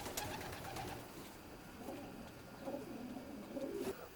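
Racing pigeons cooing softly inside a loft where they nest freely, several low, rolling coos from different birds over a faint, hissy room background, with no talking.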